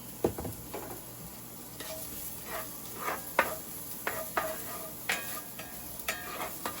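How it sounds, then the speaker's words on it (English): Onions cooking in about a teaspoon of oil in a hot pan, a steady low sizzle broken by irregular scraping stirs and light clicks of a utensil, close and fairly quiet with no talk. "I'm gonna add a little bit of oil so we can cook our onions."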